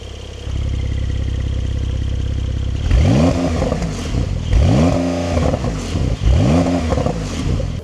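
A Porsche 911 Carrera 4S with its exhaust valve open idles steadily, then gives three sharp throttle blips that rise and fall in pitch. Each blip is loud and close, with a rumbling burble between them.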